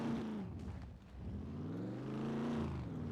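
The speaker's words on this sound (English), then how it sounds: "It's taken ages for the car to charge up." Car engine in the Scum survival video game, a steady droning hum with shifting pitch held at a constant level throughout, no talking.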